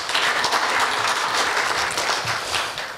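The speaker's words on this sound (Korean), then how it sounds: "큰 박수 부탁드립니다" A crowd claps loudly and steadily for a few seconds at a Korea University campus town plan presentation and agreement signing, a dense burst of applause that fades slightly at the end.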